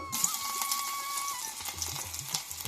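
Garlic cloves sizzling in hot oil for a tempering, a steady crackling hiss with faint tapping and a thin background tone, alone without voices.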